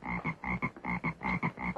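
A man imitates a frog croak as a signal, a rapid run of rhythmic, throaty croaking pulses repeated about a dozen times, close and fairly quiet, with no other sound around it.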